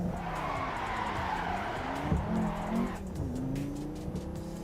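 Simulated car driving in Assetto Corsa, steady engine drone with tire skid squeals and shifting pitch, played loud and continuous with no talking.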